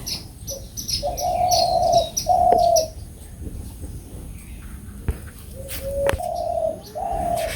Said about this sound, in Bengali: আর দেখছেন সকালবেলায় ঘুঘু পাখির ডাক